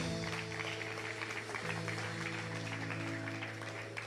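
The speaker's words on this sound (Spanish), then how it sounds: "Denle un aplauso al Señor, amén." Congregation applauding during a Spanish-language church service, a steady, moderately distant patter of many hands lasting the whole stretch over a sustained low musical hum.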